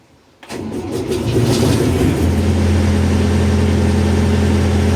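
A Claas Dominator 58 combine harvester's engine cranks and fires after a short quiet pause, then settles into a loud, steady, fast idle.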